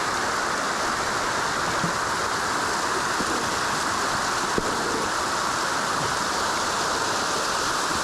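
A waterfall in the Andharban forest in the Western Ghats gives a steady, full roar of rushing water that stays even and continuous throughout, with no voices.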